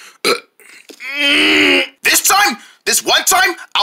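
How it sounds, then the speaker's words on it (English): A long, loud, croaking burp rolls out near the middle, bracketed by close chatter and laughing voices before and after. "What about that burp?"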